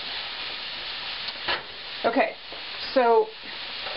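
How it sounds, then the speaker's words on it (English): Mushrooms frying in oil in a pan give a steady low sizzle, with a few brief stirring scrapes, under a person talking. "now we have to let the moisture cook out of the mushrooms"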